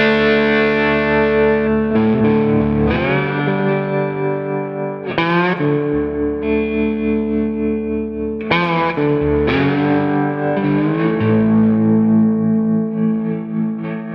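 Distorted Gibson Non-Reverse Firebird electric guitar plays sustained chords and bends with heavy effects and echo, several strong strikes spaced across a long, loud passage.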